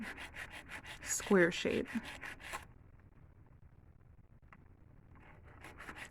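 An acrylic nail being filed into a square shape, with rapid rhythmic rasping strokes close by, a brief voice mixed in, then a quiet pause before faint filing strokes resume.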